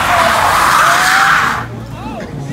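Tires skid loudly as a car spins through a 180-degree turn at a street racing event, the rising squeal cutting off sharply partway through, followed by engine noise and voices.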